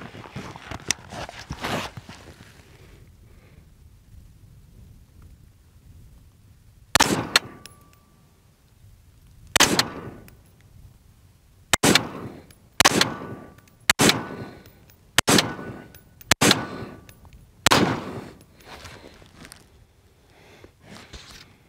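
Eight 5.56 green tip armor-piercing rounds fired at AR500 steel body armor, heard as sharp separate gunshots spaced about a second or two apart, loud and close, with quiet gaps between.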